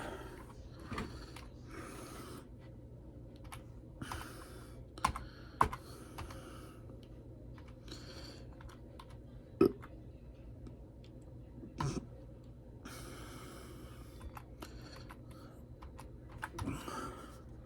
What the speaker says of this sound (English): Let's type this one in the good old Google Trans.